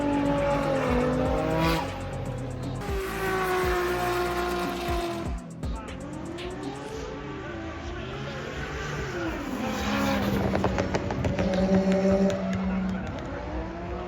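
Engines rev and whine as cars drift around a course at a Japanese car show event, with bursts of tire squeal and crowd noise from a distance.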